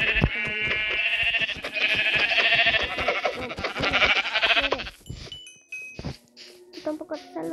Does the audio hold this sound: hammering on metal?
no